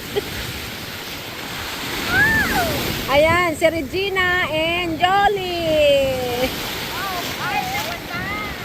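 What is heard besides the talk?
strong ocean waves on a beach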